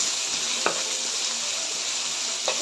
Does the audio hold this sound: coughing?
no